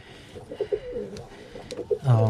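Birmingham Roller pigeons coo inside a loft, a series of soft, rhythmic low coos close by, ending with a louder, fuller call.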